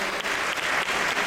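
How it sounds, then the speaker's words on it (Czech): An audience applauds steadily for male bodybuilders over 180 cm on stage at a 2009 contest in Přerov, a dense, continuous clatter of clapping hands filling the hall. "privítame ich potleskom"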